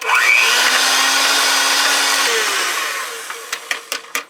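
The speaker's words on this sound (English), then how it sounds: "So we're going to mix together the sugars, the butter, and the oil." An electric hand mixer whirs steadily through a bowl of sugars, butter and oil, holding a high buzzing drone before winding down, with a few sharp clinks against the bowl at the end.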